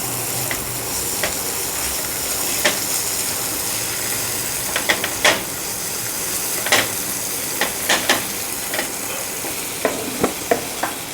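Capsicum and chillies fry in a spoonful of oil for chana chaat, giving a steady sizzle with intermittent scraping stirs and clicks of a spoon against the pan, close and moderately loud, with no talk.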